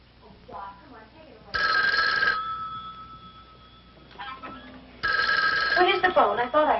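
An old-fashioned telephone bell rings in two loud, close bursts separated by a pause, with a brief voice and faint room sounds in between.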